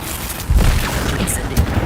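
Incendio fire spell cast in a Harry Potter wizarding game, a sudden muffled whoosh and boom of a fiery blast followed by rumbling, with a second softer burst near the end.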